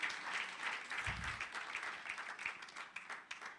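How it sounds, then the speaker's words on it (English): Audience at a women in sport summit applauding, a crowd's clapping that is strongest at the start and keeps going with individual claps standing out, plus a brief low thump partway through. "Can you give Cecilia a big hand of applause?"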